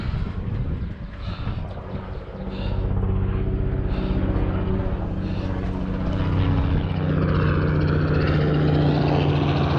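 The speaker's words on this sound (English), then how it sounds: "There's a helicopter coming right by here." A helicopter passes over a mountain trail, its rotor and engine drone growing from a distant hum into a steady, loud throbbing whir that holds close by and shifts pitch as it moves.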